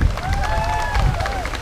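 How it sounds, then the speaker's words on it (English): Crowd applause at a Walmart grand opening in Kissimmee, Florida, for the ROTC and a veteran: a steady burst of clapping and cheering, with a voice singing or calling out over it. "let's give them all a big round of applause."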